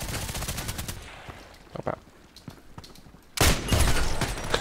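IZH-43 shotgun shots in a video game, a burst of rapid gunfire fading into sparse shots, then a loud sustained volley near the end, with a brief spoken word.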